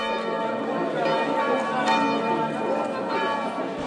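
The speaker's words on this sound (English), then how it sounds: "The bells in our village are ringing because the tour is coming by any moment now." Village church bells peal continuously with many overlapping ringing tones, a full, steady clangor that fills the whole stretch without pause.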